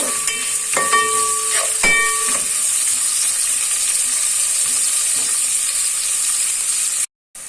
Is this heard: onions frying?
yes